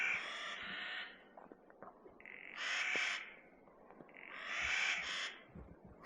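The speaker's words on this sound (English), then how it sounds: "Those birds do not want me to sleep." Birds give loud, harsh calls at night by a lake in three separate bursts with quiet gaps between them, close by and with no talking.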